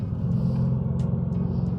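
A Hennessey-tuned Cadillac CTS-V idles loud and lumpy, a dense, uneven low rumble that holds steady and close without any talk.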